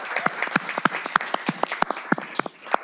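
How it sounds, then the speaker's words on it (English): A small audience at a city council candidates forum claps in distinct, sparse, separate claps for a few seconds, close and fairly loud. "Give her a round of applause."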